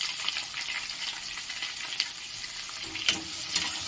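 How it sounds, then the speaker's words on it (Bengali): Chopped onion fries in a pan for dhaba-style egg tarka, a soft continuous sizzle broken by light scraping stirs and a couple of sharper clicks of the spoon against the pan. "আমি পেঁয়াজ কুচিটা দিয়ে দিলাম।"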